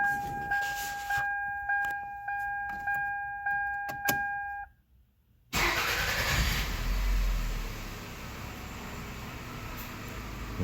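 A car engine cranks with a rhythmic whirring starter under a steady electronic chime, pauses briefly, then catches and settles into a loud, steady idle, heard up close after a fuel pump replacement.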